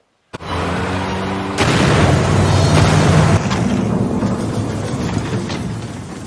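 A spilled fuel drum set alight in a film goes up in a large fiery explosion: a sudden loud roaring burst that swells, then holds as a heavy rumbling blaze.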